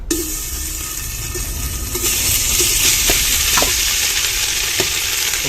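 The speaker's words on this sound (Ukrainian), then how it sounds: "Казан розігрівся, тож будемо запускати і витоплювати його" Small diced pieces of pork fat (salo) render in a hot cauldron outdoors, a loud continuous sizzle and crackle with occasional pops and stirring clinks, growing slightly louder as the fat heats.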